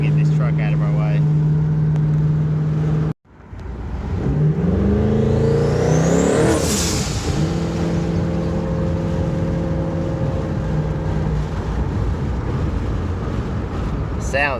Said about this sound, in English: All you hear is just turbo.